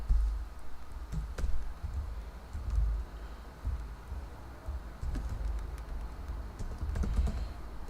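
A computer keyboard is typed on in quick, irregular bursts of light clicks and taps, close and fairly quiet, with brief pauses between strings of keystrokes and no talking.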